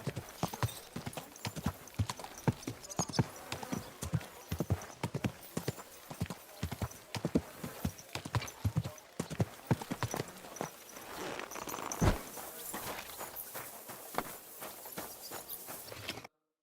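Rapid horse hooves clip-clopping in a steady trotting rhythm in the video game Kingdom Come: Deliverance II, close and continuous, with a faint whinny partway through.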